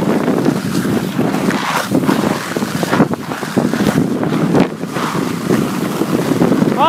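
Strong wind roars steadily past the microphone during a fast downhill ski run at Poley Mountain, a loud, gusty buffeting that fills the whole stretch with no one talking.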